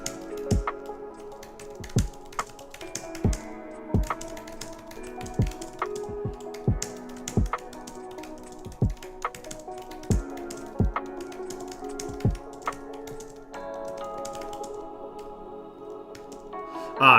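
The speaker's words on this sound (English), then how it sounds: "We're about to do a minute of typing." Typing on a computer keyboard during a late-night coding session: sharp, separate key clicks tapped at a slow, uneven pace, quiet and close, with no talking.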